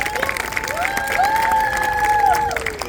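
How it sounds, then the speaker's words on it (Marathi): An audience at a devotional stage gathering claps together for a group performing a play, a steady broad round of applause with some cheering that stays loud and even for the whole stretch. "त्यांच्यासाठी एकदा टाळ्या"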